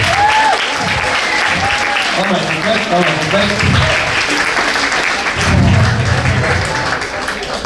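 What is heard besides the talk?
audience applause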